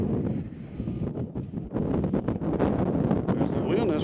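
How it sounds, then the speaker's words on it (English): Gusty wind buffets an outdoor microphone at an airport while planes are being watched, a loud rumbling roar with uneven bursts that partly covers faint background sounds. "As the wind has picked up, as you can hear in the microphone"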